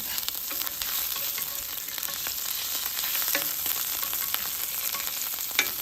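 Diced food frying in bacon grease gives a steady, close, bright sizzle throughout, with occasional light crackles and stirring scrapes; no one speaks.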